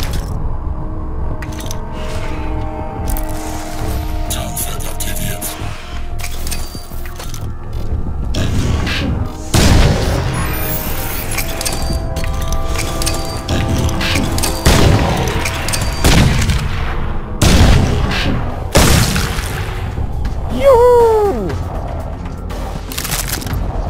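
Grenade blasts and bursts of gunfire from the shooter game Crysis 2, with heavy booms and sharp cracks scattered across a dense, continuous battle mix of explosions and mechanical noise.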